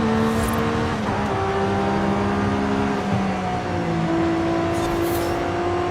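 McLaren 720 GTR in Forza Horizon 5 accelerating hard, a steady loud engine drone that rises in pitch through gear changes, continuous with no speech over it.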